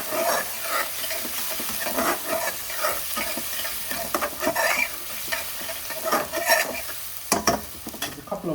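Salted onions softening in a pan for sag paneer, sizzling steadily as a utensil stirs them in repeated scraping strokes throughout, close and fairly quiet with no talking.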